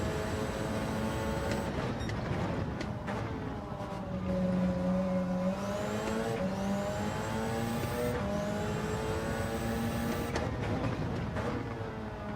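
Racing car engine in a video game endurance race at Spain, revving and shifting continuously with rising and falling pitch sweeps, loud and close throughout.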